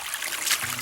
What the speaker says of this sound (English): This is the only waterfall we have in this farm.